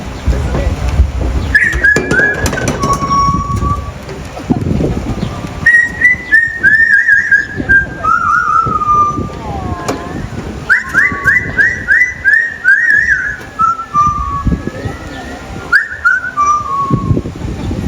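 Loud, varied whistled phrases from a bird at a bird show at African Lion Safari in Ontario, Canada, sliding up and down and broken into short bursts with pauses, close by and continuing throughout.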